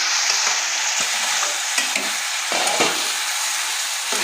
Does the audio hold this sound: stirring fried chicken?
yes